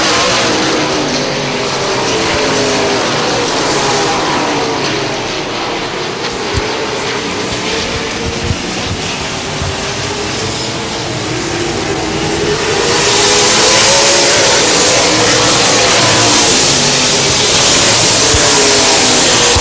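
Super late model race cars lapping a dirt oval, a dense continuous roar of several engines at full throttle that swells louder and brighter as the pack sweeps past near the end.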